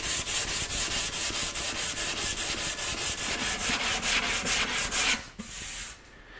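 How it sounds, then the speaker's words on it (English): Hand sanding of a curved wooden seat with 180 grit sandpaper on a sanding block, steady rhythmic back-and-forth rasping strokes close by, about twenty even passes before stopping. "this is 180 grit sandpaper on a sanding block"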